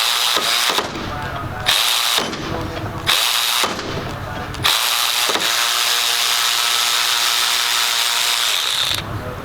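A Snap-on 1/4-inch electric ratchet breaks a fastener loose in several short, loud motor bursts separated by pauses, then one long sustained run near the end.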